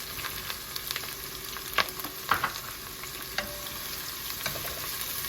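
Chopped ginger, garlic, green chili and onion sizzling and frying in a pan for a Kerala-style fish curry, with a steady hiss and occasional stirring scrapes throughout.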